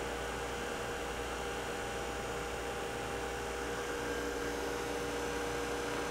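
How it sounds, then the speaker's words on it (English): An internal diameter grinding machine runs with a steady loud broadband hum and whine, constant throughout with no change in level and no talk. "Now when I start the machine again, I have my ID grinder."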